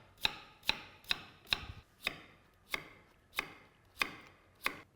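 A knife slices through a carrot on a board in nine sharp, evenly spaced chops, each crisp thud close and distinct against near silence.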